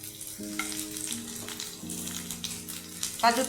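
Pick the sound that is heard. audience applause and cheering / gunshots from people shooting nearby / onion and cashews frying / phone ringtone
onion and cashews frying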